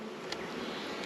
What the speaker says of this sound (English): Bees going straight on the cage, which tells me they want a queen.